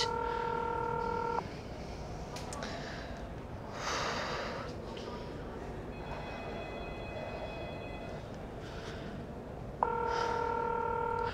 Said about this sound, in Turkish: Aç şu telefonu, aç.